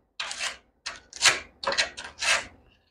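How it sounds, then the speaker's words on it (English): Sandpaper scrubs dirt off a part of a Toro mower in five short, close back-and-forth rasping strokes separated by brief pauses, with no speech. "Let's get a little piece of sandpaper and clean it up real quick."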